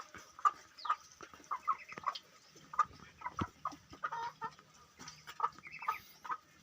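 Chickens cluck repeatedly in short, irregular bursts, close by, with a light farmyard background and no talking.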